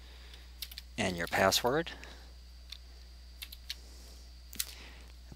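Keyboard keys are tapped in short, sparse bursts while a password is entered at a command prompt, set against a quiet room hum, with a brief stretch of close speech partway through.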